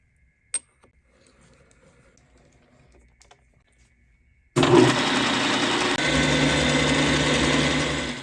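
A milling machine squares up stock with a 1/2 inch end mill: quiet clicks and faint shop noise, then a sudden loud, steady broadband cutting roar that holds to the end.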